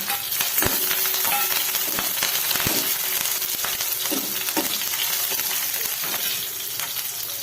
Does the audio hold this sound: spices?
yes